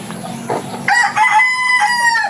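Chickens in a small backyard farm beside a house give loud, close clucking that rises into agitated calls and a crowing cry, with no talking.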